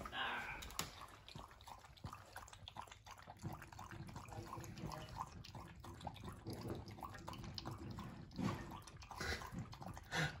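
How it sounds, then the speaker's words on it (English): A dog laps up drinking water in quick, irregular wet splashes, close and faint, with a voice talking now and then. "Lapping up that water."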